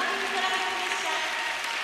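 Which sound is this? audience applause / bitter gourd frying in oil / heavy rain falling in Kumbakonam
audience applause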